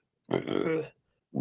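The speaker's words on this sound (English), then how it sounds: "no two burps are alike" A long, loud, voiced burp with a grunting, pig-like rasp, about half a second of rough rumble that cuts off into silence, followed by the start of another.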